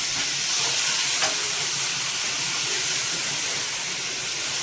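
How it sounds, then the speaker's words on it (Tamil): Mutton pieces sizzle steadily in a hot pan for a mutton kulambu, a dense continuous hiss of frying close by with no talk. "சுத்தமாக எடுத்து வச்சுருக்க மட்டனை அதில் போட்டுருவோங்க."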